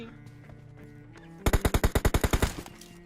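A rapid automatic burst of about a dozen loud video game gunshots rings out in quick, even succession after a quieter stretch of low game ambience.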